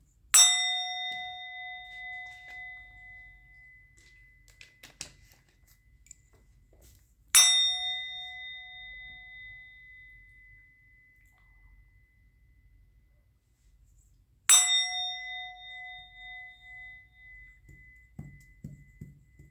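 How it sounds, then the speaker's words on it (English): A hand bell is rung three times, each a bright ringing clang at spaced intervals that decays slowly, with near silence between strikes and faint low noise near the end. "I'm going to ring the bell."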